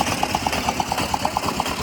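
A Kawasaki-style 6R superbike engine idles steadily up close, with a regular, rapid pulsing throb and a constant mechanical drone.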